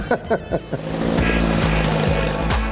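An old Volkswagen Beetle's engine roars loudly as the car passes near a stadium, building into a sustained, rising drone after a few sharp thuds at the start.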